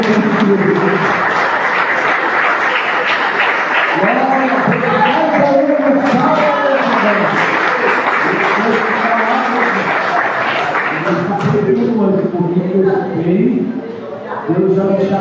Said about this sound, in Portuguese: Vamos receber o servo de Deus, uma grande salva de palmas, que nós vamos receber.